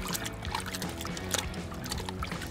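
Hose water splashing over a motorcycle's rear fender and exhaust area during a two-bucket wash, a steady broadband spray and trickle running the whole time, close and fairly loud.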